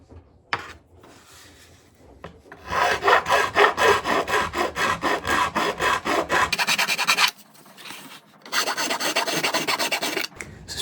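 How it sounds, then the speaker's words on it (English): A hand file rasps back and forth in steady rhythmic strokes while filing holes to a line in a wooden guitar top, close up and alone, in two runs with a short pause between. "now take a file, and it's just filing to the line, so it takes forever"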